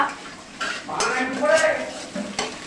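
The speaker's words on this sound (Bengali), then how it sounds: "এই যে এখন আলুর দমটা কষা চলছে" Aloo dum potatoes are sautéed and stirred in a pan, with repeated scraping strokes over a soft sizzle and a brief voice in the background.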